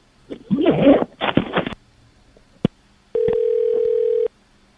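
A steady electronic telephone dial tone hums alone for about a second after the phone is hung up, preceded by a brief clatter and a sharp click.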